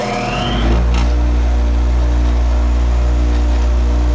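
A restored 1965 Craftsman bench grinder fitted with a Harbor Freight wheel spins up and then runs at a steady, loud hum with a strong low drone and a faint high whine, close by, with no talking.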